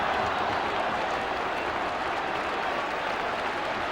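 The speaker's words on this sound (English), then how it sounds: "And applause from the Holgate end behind Nigel Martin's goal" Steady, dense applause from a large crowd at a Middlesbrough FC football match in 1992-93, a continuous wash of clapping that holds at an even level throughout.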